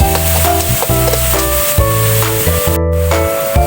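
White onions sautéing in a pan for a macaroni pasta with sausage and carrot, a steady close sizzle broken by repeated stirring scrapes in a choppy rhythm.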